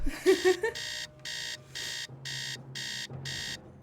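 Alarm clock going off in the video game Nancy Drew Secret of the Scarlet Hand, a loud electronic beeping repeating in six or seven even pulses, preceded by a few short tones.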